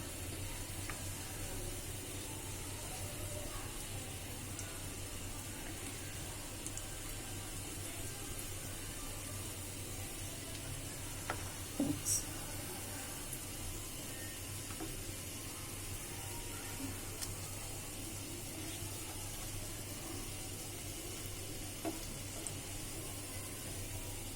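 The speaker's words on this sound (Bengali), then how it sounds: "তো এভাবেই ভাজতে হবে।" Beef tikka kebab pieces fry in a pan with a steady, quiet sizzling hiss and a few faint crackles and pops, heard alone with no voices throughout.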